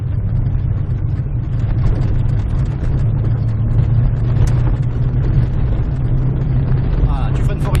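A Subaru car engine drones steadily and close, loud and continuous while driving with throttle and braking, the engine rumble unbroken beneath an instructor's French coaching voice.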